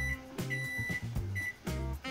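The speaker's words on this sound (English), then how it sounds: "Okay, so our timer just ended." A kitchen timer beeps at the end of a 60-minute boil on a one-gallon Hefeweizen brew day, sounding a few repeated electronic tones over steady background noise.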